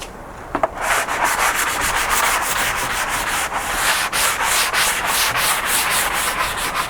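Close, steady hand sanding of a wooden farmhouse side table before staining, with rhythmic back-and-forth rasping strokes that continue without pause after a couple of brief knocks at the start.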